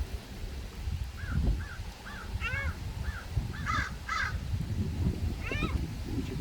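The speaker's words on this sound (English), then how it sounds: "It's a crow." Crows caw repeatedly outdoors on a morning nature walk, a series of short harsh calls at a moderate distance over steady wind and rustling noise.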